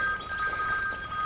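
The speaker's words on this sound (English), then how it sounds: "of course I get a phone call right now" Phone ringing with an incoming call, a steady electronic ring tone that runs continuously and plays alone at moderate volume.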